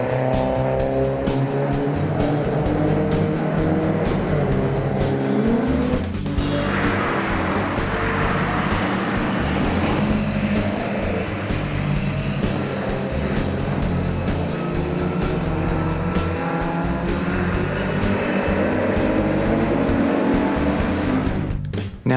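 GT race cars, among them a Marcos Volvo GT, race through the Druids corner in an HSCC Gold Cup GT race in 2009. Loud, continuous engine roar fills the track, with tire squeal and skidding mixed in.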